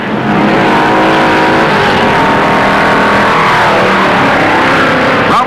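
Stock cars thunder around the track in the 1958 Southern 500, a loud, dense roar of several engines blending together, steady and continuous throughout with no talking.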